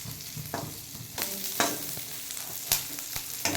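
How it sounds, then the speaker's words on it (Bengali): Green chillies fry with garlic in a pan for a methi sabzi, a continuous close sizzle broken by sharp clinks and scrapes of stirring. "এবার আমি কাঁচা লঙ্কা দিয়ে দেব। কাঁচা লঙ্কাটা একটু ভাজা ভাজা হবে"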